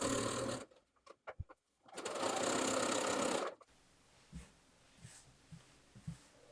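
A sewing machine stitches bomber jacket seams, with a few short stuttering runs followed by a steady burst of nearly two seconds, then falls quiet apart from faint handling knocks.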